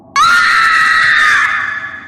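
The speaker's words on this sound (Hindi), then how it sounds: "उस बच्चे को देखकर दाई माँ की चीख निकल गई" A woman's piercing scream used as a horror-story sound effect, starting abruptly and held loud and steady for nearly two seconds before trailing slightly, alone with no talk.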